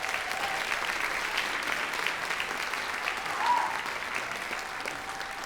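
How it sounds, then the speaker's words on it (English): Audience at a school junior and senior awards night gives a sustained round of applause, steady dense clapping from a crowd filling the room for several seconds with a slight swell near the end. "Let's give them a round of applause, please."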